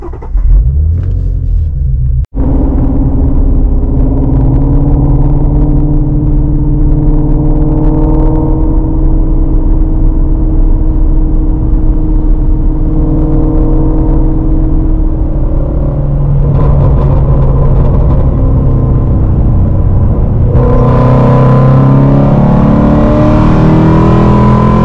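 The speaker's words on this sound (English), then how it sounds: "now I'm gonna start the car" A car running on an E85 and 93-octane fuel mix cranks with a sharp start, then settles into a loud, close, steady idle with shifting engine tones and a rise in revs near the end.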